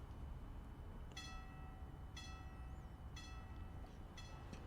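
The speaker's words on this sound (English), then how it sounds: "Train's coming." A train rolls by in the Counter-Strike map, heard as a steady low rumble with repeated brief clanking bursts about once a second, fairly quiet and without voices.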